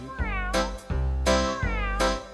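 A domestic cat meowing close up, three clear drawn-out meows in quick succession, each rising then falling, alone with nothing else heard.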